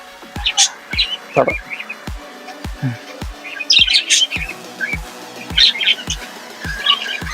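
Budgerigars chirp and chatter in quick bursts over a regular ticking, clicking sound. The birds sound close.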